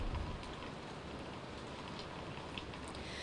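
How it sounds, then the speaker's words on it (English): Rain and wind during Hurricane Ian's landfall in South Carolina, a continuous dense hiss of rain falling on surfaces, steady and fairly loud throughout with no voices. "we are continuously seeing rain and wind"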